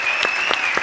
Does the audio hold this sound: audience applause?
yes